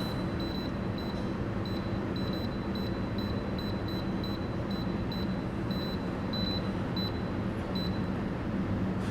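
Electric pressure cooker with a 6-quart pot beeping as it is set: a series of short, high, evenly spaced electronic beeps over a steady hiss, some in quick pairs, moderately close.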